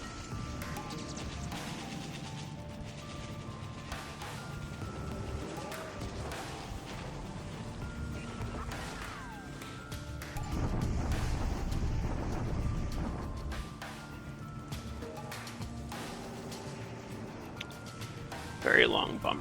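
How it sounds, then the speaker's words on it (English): Naval bombardment in a Pacific war strategy game, a long rumbling barrage of crashing impacts that swells for a few seconds and ends with a sharp hit, mostly under steady commentary talk. "Very long bombardment here."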